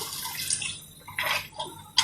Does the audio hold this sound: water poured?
yes